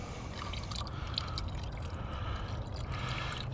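Distilled water pours steadily into the radiator of a 1997 Chevy Tahoe, a continuous close trickle and splash with no break.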